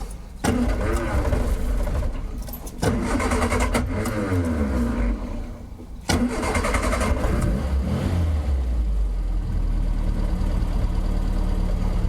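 An MG Midget sports car on its first drive after anti-roll bar shackle and bush repairs, its engine revving up through several gear changes, loud and close, then settling to a steady drone.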